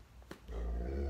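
A dog growls low and close, starting as a short soft sound and swelling into a sustained rumbling growl that holds to the end.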